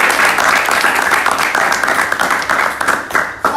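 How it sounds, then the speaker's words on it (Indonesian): School audience applause at a junior high podcast event, a dense continuous burst of clapping from a crowd that swells and then tapers off near the end. "Udah kasih tepuk tangan dulu dong."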